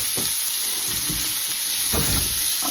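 Sliced peppers and onions dropped into a hot pan, setting off a loud, continuous hiss of frying with soft thumps and stirring scrapes as the vegetables land and settle, close and unaccompanied by speech.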